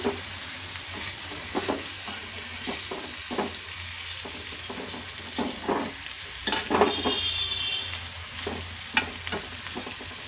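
Paneer fries with masala in a pan, a steady sizzle running throughout with irregular scrapes and clinks of a spatula stirring, close and fairly loud, with no talking.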